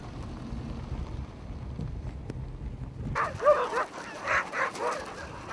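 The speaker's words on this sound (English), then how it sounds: "It's something only gritty sled dogs can do." Sled dogs barking close by, a burst of several sharp barks and yips that breaks in after a stretch of quieter low rumbling background.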